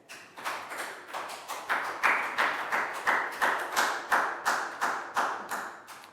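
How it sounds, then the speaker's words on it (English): Classroom applause for a pupil: a small group clapping in a steady, even rhythm of about a dozen crisp, fairly close claps that build slightly and then hold. "Big round of applause for Net."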